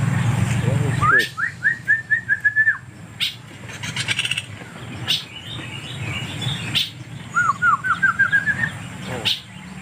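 Wild songbird singing outdoors in Aceh, Indonesia, with bright rising whistled phrases in two bursts separated by a pause, set against low background rumble and rustling.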